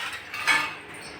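A pressure cooker lid closes in a village kitchen with a single brief metallic clunk and scrape, fairly quiet.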